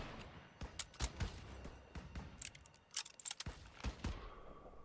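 Rapid bursts of World War II-era gunfire in Call of Duty: WWII crack in quick succession, sharp and loud, scattered irregularly over a few seconds like a game firefight.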